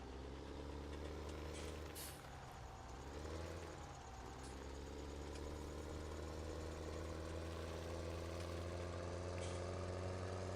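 A tractor engine driving in a farming video game, heard as a steady low droning rumble with a brief dip in pitch partway through, continuous and close, with no talking.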